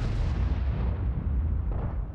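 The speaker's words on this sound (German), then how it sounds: "Schuss ist direkt raus" A tank cannon fires in World of Tanks, a heavy booming blast with a long low rumble that rolls on and slowly fades, loud and alone with no voices.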